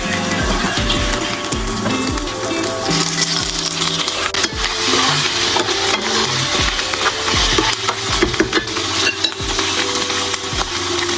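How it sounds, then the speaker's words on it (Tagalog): Chicken adobo with mushroom and tomato sauce cooks in a pan in a Gudauri loft kitchen, giving a steady busy sizzle with scraping and stirring throughout, with no voices. "I'm cooking chicken adobo with mushroom"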